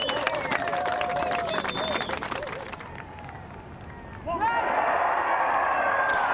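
Golf spectators at the final round of the 2014 South African Women's Open rise and applaud as champion Leanne Pace lifts the trophy outdoors; a dense wash of clapping under commentary, dipping briefly before swelling again.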